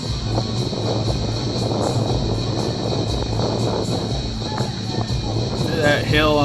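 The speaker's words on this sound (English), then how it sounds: "Now you can hear the wind." Steady wind rushes across the microphone on a boat near Ensenada, Baja California, a constant broadband roar with some low rumble throughout, and a brief higher chirping near the end.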